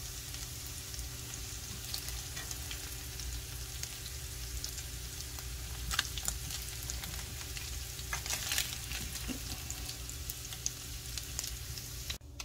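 Miniature scallops sizzling golden brown in a pan, an even continuous hiss of hot fat with a few brighter crackles and light clinks, heard close and unaccompanied by talk.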